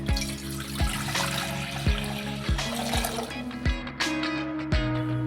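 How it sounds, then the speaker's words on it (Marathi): Water from a small metal pot is poured into a cooking pot on the gas stove, splashing and gurgling at close range with repeated knocking thuds from the vessel, moderately loud and free of speech. "पातेल्यात 1 तांबे पाणी घालू."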